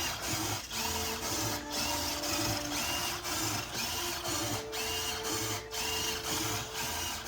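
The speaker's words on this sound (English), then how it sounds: "there's a servo gear inside which is doing the heavy lifting" A servo gear inside a Star Wars-inspired throttle box drives the throttle lever, giving a steady mechanical whirring and buzzing with short tonal motor whines that rise and fall at close range, with no voices.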